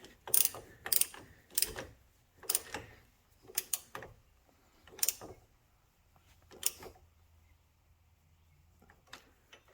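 Wrench ratcheting on a brake bolt of a 2009 Toyota Prius during a brake service, a run of crisp clicking bursts in uneven groups, close and clear with no talk.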